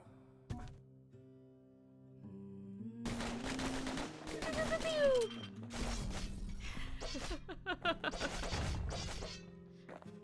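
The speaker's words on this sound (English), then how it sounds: "Enjoying the dueling pistols very much" Dueling pistols fire in the video game Bastion, a burst of rapid punchy shots and impacts over a sustained musical score, with whooshing effects and a narrator's voice layered in.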